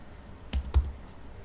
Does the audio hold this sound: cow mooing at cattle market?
no